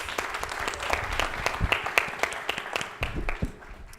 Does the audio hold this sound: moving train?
no